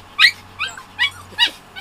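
A dog gives four short, high yips and whimpers in an even rhythm, each one close and loud, over a quiet low hum, with no talk.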